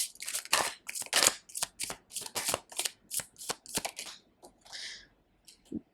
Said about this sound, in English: I'm gonna put out a few more cards.